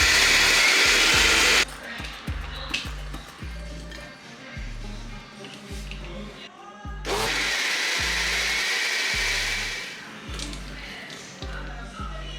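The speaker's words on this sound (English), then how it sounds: "Then I blended everything into a smooth batter." A blender grinds soaked rice into appam batter in loud bursts, starting and stopping several times with a steady high whirr, while a low rhythmic pulsing and occasional talk run underneath.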